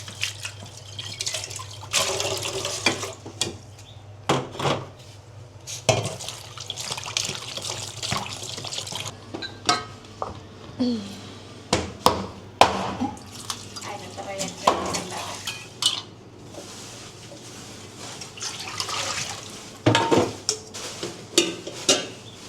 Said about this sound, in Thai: ล้างเห็ดก่อน